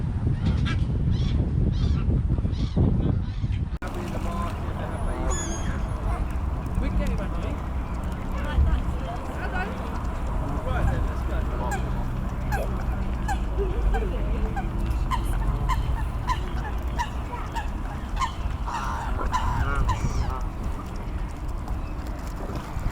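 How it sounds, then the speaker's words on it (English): Geese and other waterfowl at Walton Bridge honk and call repeatedly in a busy, lively chorus outdoors, with a person speaking over the birds and brief handling noise at the start. "It's a great place and it's full of birds."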